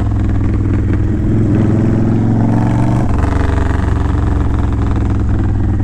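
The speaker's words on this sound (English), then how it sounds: "That's the DECEL pop." A Honda Fury motorcycle with Cobra Speedster exhaust pipes, baffles out, runs loud and close, its engine note shifting as the throttle is worked and backed off during deceleration.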